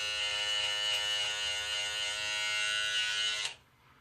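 A Wahl Magic Clip cordless lithium-ion hair clipper trims a beard with a close, steady high-pitched electric buzz that runs evenly for a few seconds, then cuts off abruptly.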